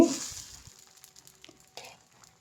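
Khara dosa batter poured onto a hot griddle, giving a brief sizzle at the start, then quiet light crackles and small utensil clicks fading out.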